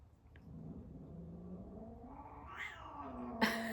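Cats yowl and caterwaul in a drawn-out fight outdoors, the wavering cries rising in pitch toward a sharp burst at the end, moderately distant and with no talk over them.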